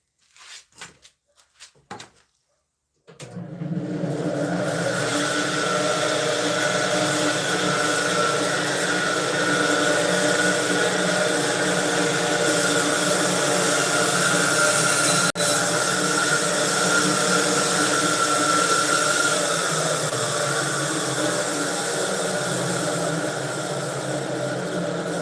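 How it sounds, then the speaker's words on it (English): A bandsaw cuts a small arch into the bottom of a walnut pipe blank. A few short knocks come first, then a steady, loud whine runs without a break for more than twenty seconds, with no talking. "I'm gonna take this to the bandsaw and try to get a little arch cut out of the bottom if I can"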